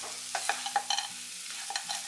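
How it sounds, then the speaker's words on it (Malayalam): A spoon stirs a mixture of flattened rice, banana, cashews and raisins in a pan after the stove is turned off, making a series of soft, close scraping strokes at an uneven rhythm with no voices. "ഇനി നമുക്ക് സ്റ്റൗ ഓഫ് ചെയ്തിട്ട് ഇത് മിക്സ് ചെയ്ത് കൊടുക്കാം"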